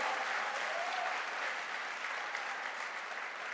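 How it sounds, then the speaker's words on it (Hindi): Steady, dense clapping from a large indoor audience at a celebration event fills the whole stretch at a constant level, distant and even with no voices over it. "अरे ताली बजाना तो थोड़ा जोर से बजाइए"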